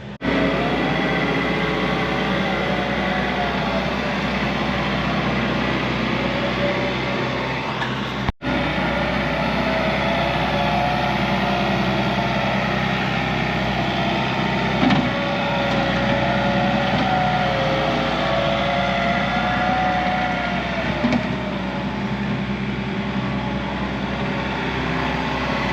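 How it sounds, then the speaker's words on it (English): A Kubota tractor pulling a landscape tiller seeder on a steep lawn slope runs with a steady engine drone and high mechanical whine, loud and continuous, with one brief cut partway through. "I'm gonna get on the Kubota tractor and use the landscape tiller"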